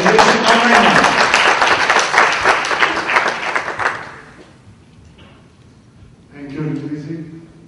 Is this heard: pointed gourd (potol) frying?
no